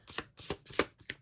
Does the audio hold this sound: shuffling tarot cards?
yes